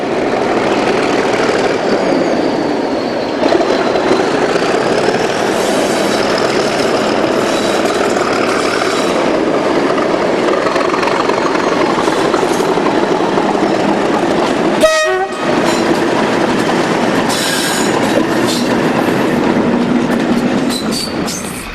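Class 37 diesel locomotive 37275 rattles loudly past Harmon's Cross at the 2008 Swanage Gala, a heavy, continuous engine roar with rolling clatter of wagons and a brief horn-like burst midway, close and dominant throughout.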